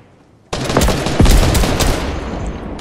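Gunfire in the video game Fortnite: after a quiet start, a loud, close burst of rapid shots and impacts rings out, then fades slowly.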